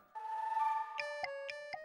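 A mobile phone ringtone plays quietly: a sustained electronic tone, then a short run of evenly spaced chiming notes, with no one speaking.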